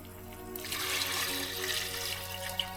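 Water poured into a simmering pot of Transylvanian vegetarian soup with potatoes, a steady close splashing trickle starting after a brief moment and running continuously, with no talk.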